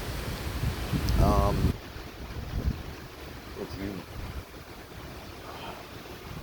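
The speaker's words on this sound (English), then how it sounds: "It's windy." Steady wind with 40-mile-an-hour gusts roars and buffets the microphone outdoors in Tampa, Florida, with a brief voice near the start and faint sounds in the background.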